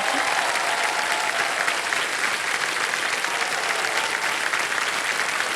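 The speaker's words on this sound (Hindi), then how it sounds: "तालियां बज जाए इनके लिए।" A studio audience on the Indian quiz show Kaun Banega Crorepati claps steadily throughout, a dense and even round of applause that neither builds nor fades.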